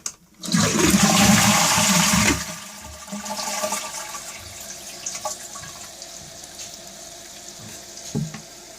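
A toilet cistern flushes with a loud, rushing gush of water after a valve repair, then refills with a quieter, steady hiss and trickle of water that runs on alone.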